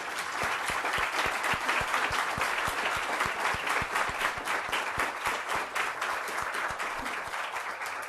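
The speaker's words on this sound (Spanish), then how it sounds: "un merecido aplauso para Olga" An academic seminar audience gives Olga sustained applause, a full, even wash of many hands clapping for about eight seconds at steady loudness with no talk over it.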